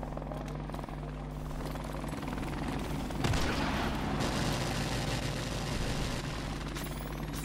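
Helicopter rotor thrum in Call of Duty: Modern Warfare Remastered, a steady low drone throughout that swells near the middle, mixed with bursts of gunfire and explosions.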